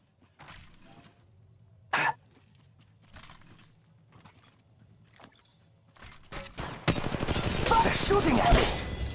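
Gunfire in the Apex Legends Mobile video game: a single sharp shot, then a loud sustained burst of automatic fire near the end over quieter footsteps and game noises.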